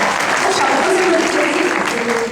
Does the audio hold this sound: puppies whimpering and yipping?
no